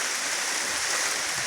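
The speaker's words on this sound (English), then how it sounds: "rain was coming down, so I just thought I'd come out and show you" Storm rain falls steadily outdoors, a loud dense wash of water noise that stays constant throughout with a faint low rumble underneath and no voices.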